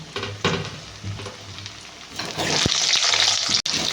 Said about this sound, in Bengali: তেলটা গরম হয়ে গেছে এবার একটা একটা করে আলুগুলোকে দিয়ে ভেজে নিই